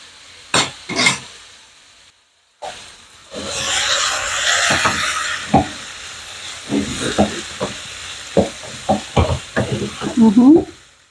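Mushrooms and pork sizzle and hiss in a hot pan while being stirred for pork adobo, with a steady frying hiss broken by repeated sharp scrapes and clacks of the stirring utensil, close and fairly loud.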